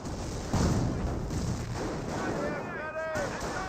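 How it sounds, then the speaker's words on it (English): Rifle grenade impacts on the Company of Heroes battlefield: dull booms and crackling bursts under steady battle noise, with a voice talking over them and a brief whistling tone near the end. "More rifle grenade hits over here."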